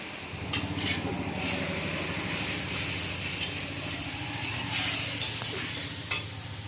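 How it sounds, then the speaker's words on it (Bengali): Ginger, chili and turmeric fry in hot oil in a pan while khichuri is being made, giving a steady close sizzling hiss with stirring scrapes and a few sharp clinks of the spoon. "আদাটা ভালো করে ভাজা হয়ে গেলে লঙ্কা হলুদ দিই"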